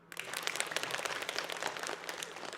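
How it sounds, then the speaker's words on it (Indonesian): A burst of applause from a crowd, steady dense clapping for a couple of seconds, somewhat distant and moderately quiet. "Tepuk tangan dulu."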